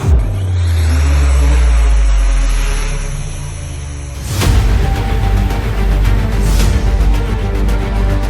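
An R-18 reconnaissance drone's motors run during a test, giving a steady layered whine with strong tonal harmonics. After about four seconds it breaks into a louder, rougher broadband roar that continues to the end.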